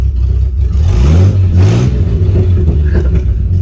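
A 1941 Plymouth barn-find engine runs loud and close on its first drive in 50 years, with a rough, low, tractor-like rumble that swells as it revs partway through.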